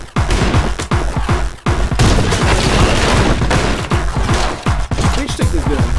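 Rapid video game gunfire crackles nonstop in dense bursts of sharp repeated shots, loud and close, with brief pauses between volleys; no talking over it.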